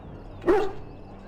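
A dog in Dragon Age: Origins gives a single short bark-like yelp at mid-loudness, standing out alone against a low steady background hum.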